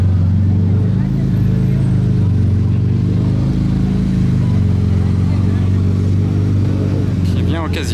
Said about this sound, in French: 812 compète qui arrive en mode 4x4